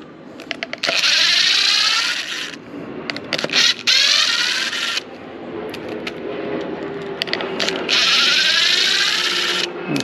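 An impact driver backs T20 screws out of the pad on a Dewalt 20V cordless orbital sander, firing in several loud, rapid bursts with rising whine, separated by short quiet gaps.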